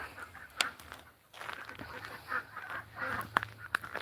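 Startled farm birds give loud honking squawks and clucks in scattered bursts, several sharp calls standing out over a quieter background murmur.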